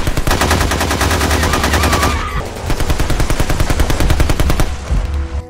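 Gunfire from a shootout scene in a film about special forces battling terrorists, with rapid automatic bursts ringing out loud and close, a short lull, then another long stretch of rattling fire that trails off.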